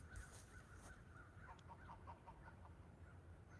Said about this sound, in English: There's lots of crows out there.